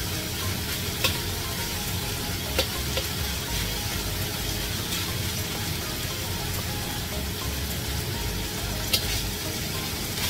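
Minced pork sizzling in hot oil while browning, a dense, constant crackle with occasional sharp pops, close and uninterrupted.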